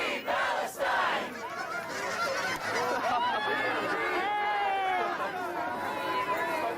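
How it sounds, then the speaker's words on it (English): A flock of Canada geese honks overhead as a protest march sets off in Anchorage, Alaska, with many overlapping, rising calls carrying over the murmur and shouts of the crowd. "a group of Canadian geese soared above the protesters, as if leading them on their path"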